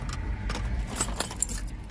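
A bunch of keys jangles and clinks near at hand beside a 2015 Jeep Grand Cherokee, bright metallic rattling over a steady low rumble of a nearby vehicle, with no speech.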